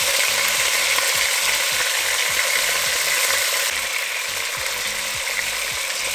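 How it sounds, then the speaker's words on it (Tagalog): Pork sizzling in about three tablespoons of hot cooking oil in a pan, a steady loud crackle and hiss running throughout with faint rhythmic low knocking beneath. "Pinirito ko lang po."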